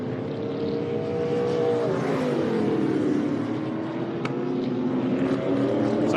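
TA2 muscle cars race at Winton Motor Raceway, their V8 engines droning loudly in a continuous roar with pitch sweeping down and back up as the cars pass through corners.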